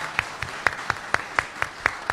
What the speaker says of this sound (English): Can we have a round of applause for Heather?